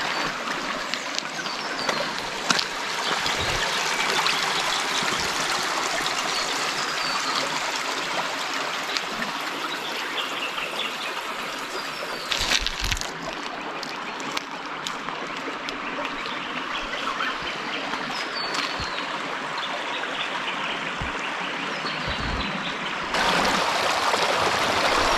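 Little River at Thirlmere Lakes rushes and trickles in a steady broadband wash of flowing water, with scattered splashes and faint knocks throughout.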